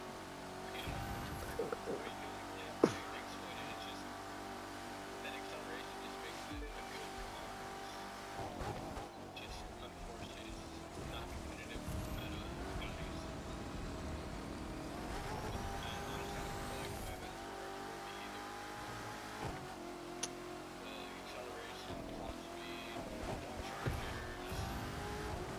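A Corvette ZR1 hypercar races in The Crew 2, its engine revving hard and climbing through repeated gear shifts as it accelerates, with faint tyre noise under a continuous drone.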